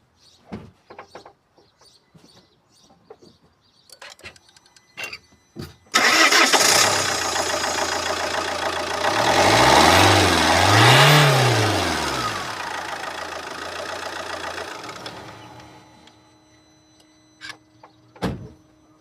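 A 2007 Fiat Croma 1.9 diesel cranks and fires up, its engine note swelling loud before settling into a steady idle, with faint clicks and handling noises around it before and after.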